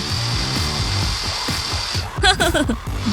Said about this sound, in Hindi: मेरी ड्रिल।